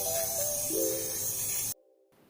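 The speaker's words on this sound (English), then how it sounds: "I decided to go ahead and spray paint everything black" Aerosol spray paint hissing steadily as pipes are coated black, a continuous close broadband spray for most of the moment before it cuts off abruptly, leaving near silence.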